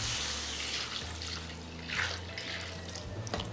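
Tamarind water pours and splashes steadily into a pan, close and continuous, with a brief gurgle near the end.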